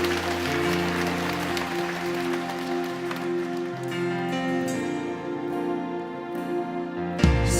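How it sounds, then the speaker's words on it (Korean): A church congregation at a prayer gathering claps together, a dense, even wash of applause lasting several seconds with music underneath, then cutting off abruptly near the end. "그렇게 오실 우리 하나님께 영광의 박수를 올려드리겠습니다."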